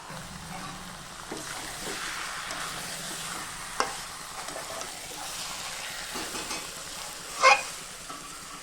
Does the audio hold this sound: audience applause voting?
no